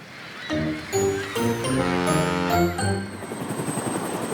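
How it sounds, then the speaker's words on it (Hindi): A cartoon helicopter arrives, opening with a bright tinkling musical flourish of rising tones that gives way to a steady, fluttering rotor chop near the end, with no voices. "हेलीकॉप्टर आ गया, हेलीकॉप्टर आ गया।"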